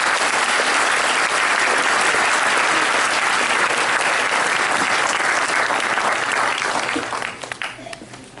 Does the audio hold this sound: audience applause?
yes